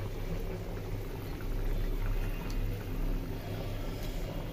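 A pot of dried fish and eggplant curry simmering, giving a steady, dense bubbling hiss that stays even throughout, close and alone.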